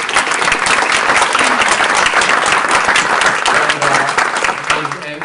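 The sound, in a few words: conference audience applause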